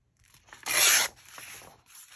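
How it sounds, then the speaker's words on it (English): Paper being cut for a handmade vintage rose journal, a short harsh rasping cut lasting about half a second, close and fairly loud, with quieter rubbing and handling noises before and after. "And then we're going to cut it off up here."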